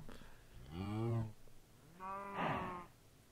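A cow in the video game Minecraft moos twice, two clear, close, drawn-out lowing calls separated by a short pause over quiet background.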